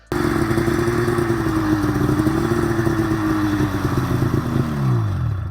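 A snowmobile with a CV Tech PB80 clutch pulls away smoothly, its engine holding a steady buzzing drone that dips in pitch near the end. The sound is loud, close and continuous, with no talk over it.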